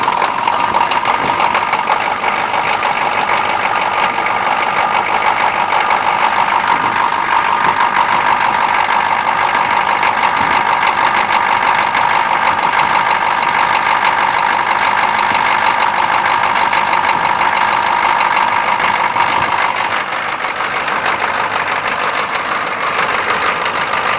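A Chevrolet K5 truck engine on a cold day runs at a steady idle after starting, a loud continuous mechanical drone with a slight knocking quality that dips briefly in level near the end.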